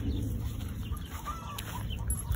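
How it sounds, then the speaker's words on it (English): Farm chickens cluck steadily and close by in a short, busy stretch of fowl chatter with no talking over it. "Chicken."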